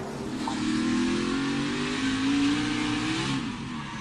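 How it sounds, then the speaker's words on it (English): A NASCAR Cup Series race car engine holds a loud, sustained high rev as the car spins around on track after the rear tires lose grip, a continuous droning roar that rises slightly midway. "He stayed in the throttle and spun it around."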